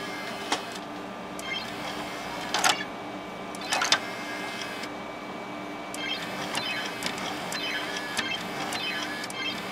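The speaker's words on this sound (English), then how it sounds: "Hey, the CD-ROM opens. That makes a funny sound." A CD-ROM drive tray opening on an Acer Aspire Pentium 166 midtower PC, with short mechanical whirring bursts and clicks over steady fan hum, fairly quiet and close.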